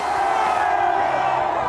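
Angry crowd roaring and cheering as the Colston statue is dumped into the harbour water where slave boats once tied up; a dense, sustained wall of voices, loud and continuous.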